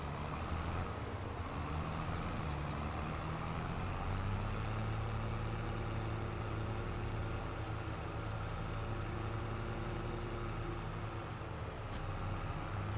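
Tractor engine idling on a narrow farm lane after a three-point turn, a steady low diesel rumble that holds close and constant throughout.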